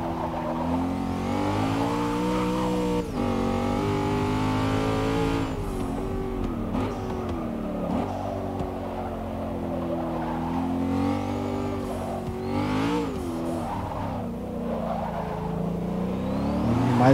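A high-torque race car in Forza Motorsport 6 on PC revs and accelerates hard, its engine note rising and falling through gear changes for the whole stretch, loud and continuous with faint tire squeal and no talking.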